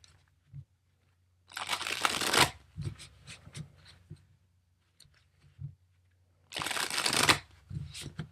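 A Vampires Tarot deck being shuffled by hand: two crisp riffling bursts a few seconds apart, close and clear, with soft card taps and handling clicks in between.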